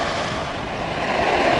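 Ocean waves washing up at the water's edge, a close, continuous wash of surf mixed with wind buffeting the microphone, steady and moderately loud with no voices.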